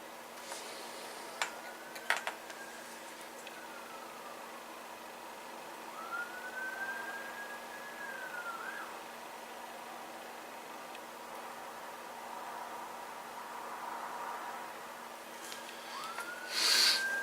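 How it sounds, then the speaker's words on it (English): Distant emergency sirens rising and falling faintly across a quiet outdoor background, with a few sharp clicks and knocks nearby. "sirens again."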